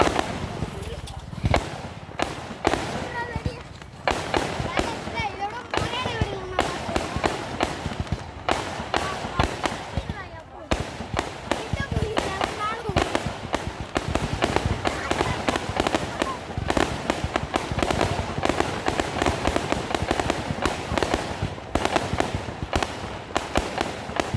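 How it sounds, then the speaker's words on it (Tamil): Rapid, dense crackling of firecrackers bursting nonstop at a village Vanathu Chinnappar festival, loud and close, with voices faintly mixed in. "வெடி வெடிக்க போறாங்க இருங்கடா கம்முன்னு"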